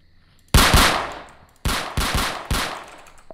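Several sharp gunshots in the video game Emergency Hamburg: one burst, a pause, then three more quick bursts, loud and close, each trailing off in a short echo.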